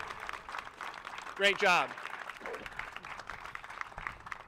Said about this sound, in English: I want you to please give a round of applause for Rebecca Cusack